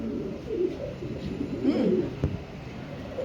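A pigeon coos softly in low, rolling murmurs, close by, against a quiet background hum, at a pigeon farm.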